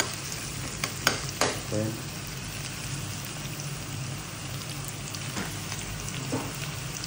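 Onion sautés in a pan with a constant sizzle, and a few sharp stirring knocks come near the start. A single short word is spoken partway through.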